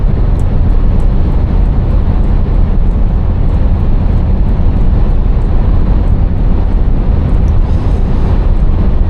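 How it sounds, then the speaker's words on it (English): Strong wind roars continuously across the microphone, loud and buffeting, with a low rumble underneath and no speech. "And it's windy, windy,"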